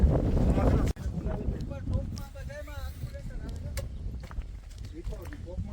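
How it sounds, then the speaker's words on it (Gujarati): Strong wind buffets the microphone in a loud, rumbling gust at the start, then eases to a steadier blowing under people talking and faint bird calls. "પવન બહુ હે"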